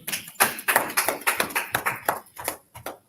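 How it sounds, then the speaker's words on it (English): Audience applause at the close of a law class, a crowd clapping in uneven bursts for about three seconds, moderately loud with no voices over it. "Let's clap it up."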